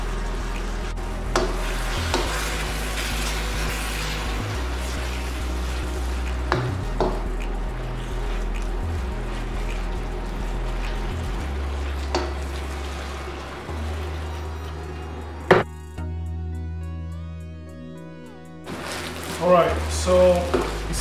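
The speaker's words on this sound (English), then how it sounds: "And then we're gonna cook it till the meat is cooked" Beef fries over medium-high heat in a pan for homemade beef and broccoli, a steady close sizzle broken by repeated scraping stirs, with a lull near the end.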